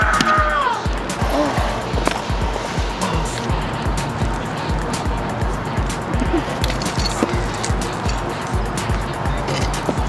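Skateboard wheels rolling over pavement with a steady rumble and a rhythmic clack at regular intervals, like the joints in the ground passing beneath, continuing throughout the clip.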